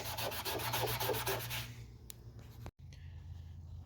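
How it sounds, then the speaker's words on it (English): A rear door of a Nissan Pathfinder is scuffed with 180-grit sandpaper, giving quick rhythmic rubbing strokes for about two seconds, then faint scattered scrapes and a brief knock in a quiet shop. "I scuffed this down with 180 and it is really smooth now."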